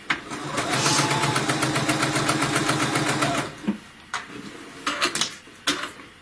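A sewing machine stitching piping around a curve on a Christmas stocking runs in a fast, even burst of about three seconds, followed by scattered clicks and handling noises as the presser foot is raised to pivot.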